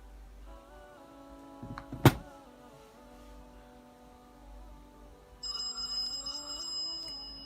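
A regular phone rings with an incoming call while a CHUWI Hi9 Air tablet is being tested: tonal ringing tones start partway through and continue to the end, moderately loud and close, with no talking.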